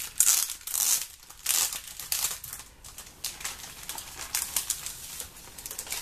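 Packaging of a Panna embroidery kit being opened: sharp bursts of crinkling and tearing paper or plastic come in quick irregular handfuls close to the microphone, then give way to softer rustling.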